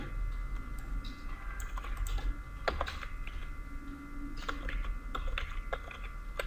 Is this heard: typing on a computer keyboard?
yes